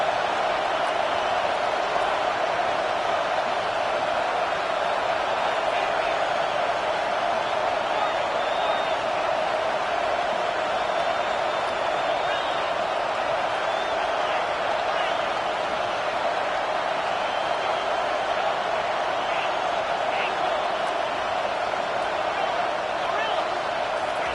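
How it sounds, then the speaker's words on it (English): Football stadium crowd at a Texas vs. Clemson game, a loud, sustained roar of cheering that holds steady as a dense wall of noise, urging the defense for a red zone stop. "This crowd is trying to inspire this defense to make a big red zone stop."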